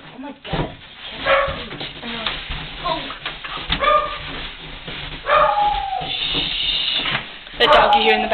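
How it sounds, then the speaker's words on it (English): A dog yaps and whimpers in short bursts in the background, a few yips scattered across the stretch while other noises move about nearby. "The dog you hear in the background is this really annoying dog, Bubba."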